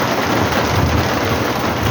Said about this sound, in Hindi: देख रहे हो बारिश बहुत कमाल हो रही है।